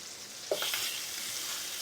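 A sudden hiss of lemon juice hitting a hot frying pan, followed by steady, loud sizzling that continues to the end.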